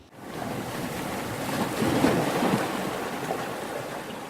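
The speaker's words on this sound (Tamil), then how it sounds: "எனக்கு இந்த கடல் ஓசை எப்போன்னு காதில் கேட்கணும்." Sea waves wash steadily onto a fishing shore, a loud, close, continuous roar of surf with wind buffeting the microphone and a slight swell in the middle, with no voices over it.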